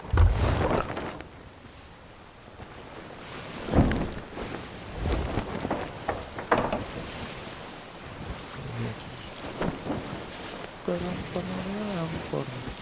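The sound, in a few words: thunderstorm with rain in the video game Sea of Thieves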